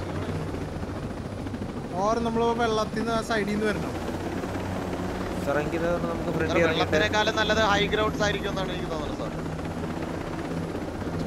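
A helicopter in the video game Ghost Recon Breakpoint gives a steady, loud rotor drone throughout. Players talk over the engine noise.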